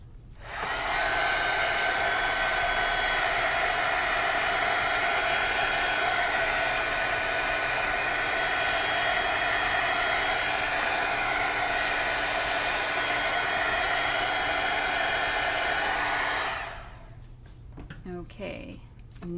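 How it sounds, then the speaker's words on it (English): A craft heating tool blows hot air in a steady, loud, continuous whoosh for about sixteen seconds, then cuts off, leaving faint handling noises. "I'm gonna use my heating tool."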